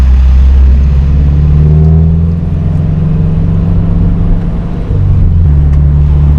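A loud, deep exhaust rumble from a Toyota 86 with headers, overpipe and DC Sports cat-back exhaust, idling and revving gently nearby, steady and throaty with a slight dip midway.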